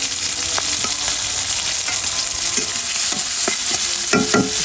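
Chopped garlic, onion and green chili sizzle loudly in hot oil for tempering, a dense steady crackle with scattered sharp pops and stirring scrapes throughout.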